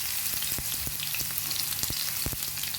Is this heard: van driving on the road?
no